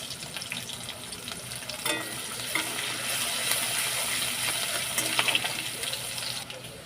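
Chopped garlic fries in oil with whole cumin, whole garam masala and chopped green chillies, giving a close, continuous sizzle with occasional stirring clatter and a few light clinks.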